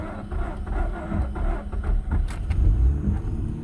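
An old car's engine cranks and struggles to catch in a garage, with uneven low rumbling bursts and sputters that never settle into a steady idle, close and moderately loud.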